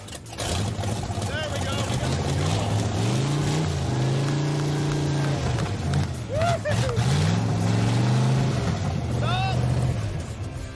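A Pro Street Daytona's rough-running engine idles loud and close, swelling in several revs and settling back, while people talk over it.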